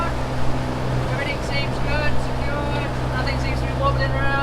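Boat engines drone steadily while cruising on open blue water, a continuous low rumble with wind and water noise, heard under intermittent talk.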